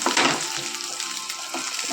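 Onion and garlic sizzling in hot oil with dried chilli, a steady close frying hiss running throughout with no talk.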